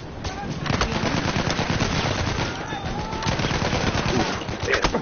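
Dense automatic gunfire from Battlefield 1, rapid bursts of shots rattling almost continuously at close range, with game explosions and noise layered underneath.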